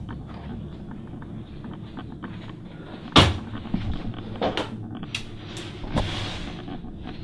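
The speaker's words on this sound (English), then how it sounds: "The cupboard door opened on its own." A bathroom cupboard door swings open with a sharp knock, then a few softer taps and clatters follow against low, steady room noise.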